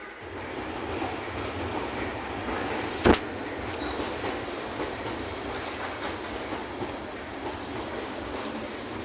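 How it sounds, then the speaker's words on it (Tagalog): A local train runs along the rails at a station platform, a steady broadband rumble with faint clickety-clack and one sharp bang partway through, holding loud and close for the whole stretch. "This train is for local."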